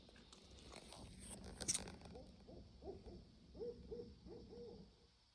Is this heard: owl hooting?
yes